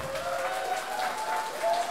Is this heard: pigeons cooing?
no